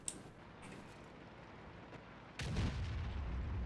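A single loud, heavy tank gun blast from the World of Tanks video game, booming suddenly partway through and rumbling on with a sustained low roar after a quieter stretch of engine-like background.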